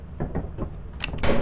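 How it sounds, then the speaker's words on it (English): A door opening in the video game Lethal Company, a few thuddy mechanical clunks followed by a louder hissing slide near the end, close and fairly loud. "Why is it so loud when you open the door?"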